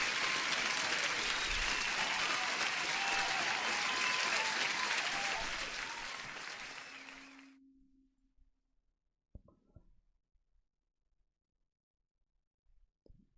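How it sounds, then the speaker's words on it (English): Crowd applause sound effect during a live day-trading stream, dense steady clapping that fades out abruptly after several seconds, followed by near silence with a few faint clicks and a short tone. "You deserve an applause too. One more applause."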